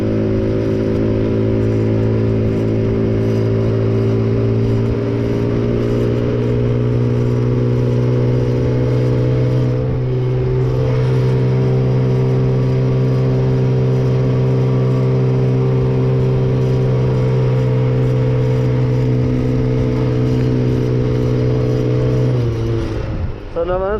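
An all-terrain quad left outdoors for a year runs with a loud, strained engine drone that holds steady and rises slightly as it is revved, heard close up for a long stretch with occasional voices over it.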